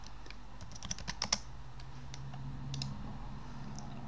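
Quiet clicks of a computer keyboard as a short burst of typing, a few sharper keystrokes early on over a low steady background hum.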